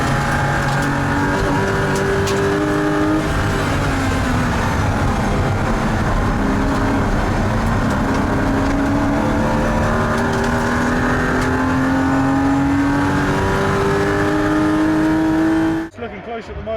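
Classic Porsche race cars race at Brands Hatch Indy, engines loud and close, revving and shifting as cars pass, with commentary talking over the continuous racing.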